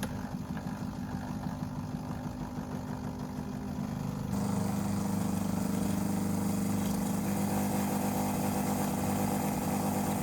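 A Maxim's La Seine X espresso machine pump hums steadily through a pressure-profiled extraction, starting low and rising in intensity partway through, a continuous close mechanical drone with no voices.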